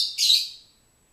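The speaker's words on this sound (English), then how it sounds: "that's the bird in the background" A single bird chirp, bright and brief, rings out clearly in an otherwise quiet room, fading within about half a second.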